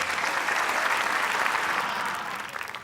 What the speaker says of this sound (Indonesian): Jadi Tepuk tangan dong.